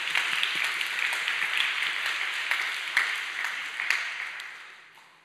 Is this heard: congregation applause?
yes